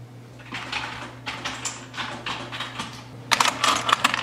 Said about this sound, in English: This keyboard's rubbish.